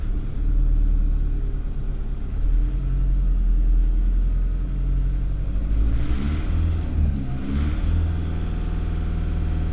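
A car engine at idle given a little throttle, a steady low rumble that rises briefly in pitch around the middle as it revs, then settles back, heard close with no talk.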